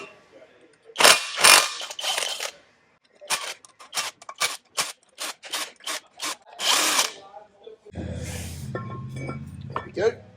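A power tool undoes 14 mm brake bolts on a Land Rover Defender, ending in a long loud rattle of the bit spinning the bolt free. Before it come sharp, close bursts of the tool starting and stopping in quick succession.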